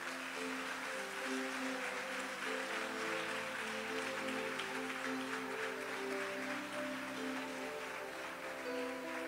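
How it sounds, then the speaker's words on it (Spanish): A church congregation claps together, a dense, even patter of many hands heard from within the room over a faint sustained musical tone, continuing steadily without voices. "Dele un aplauso al Señor."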